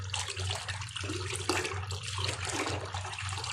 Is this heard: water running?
yes